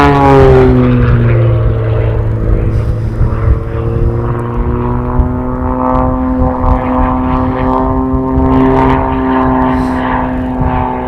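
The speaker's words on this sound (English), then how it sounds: "He's turning the plane on a 360-degree axis horizontally." A propeller aerobatic plane flying freestyle maneuvers drones loudly and steadily, its engine pitch dipping then climbing again as it turns overhead, with no voices.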